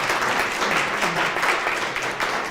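Crowd at a Rotary club roast and recognition event breaks into steady applause, a thick, continuous clapping throughout.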